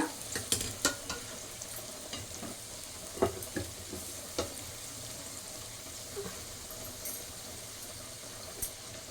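Vegetables are stirred and sautéed in a pan in a home kitchen, a soft steady sizzle broken by repeated sharp scrapes and knocks of a spoon against the pan, fairly quiet and close.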